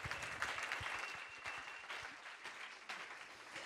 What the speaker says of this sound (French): D'ailleurs, on s'applaudit? Ouais, allez, on s'applaudit.